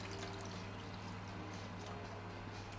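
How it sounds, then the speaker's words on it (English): Water poured over stock cubes while cooking, a steady, close splashing pour running alone for a few seconds against a constant low hum. "A little bit more water."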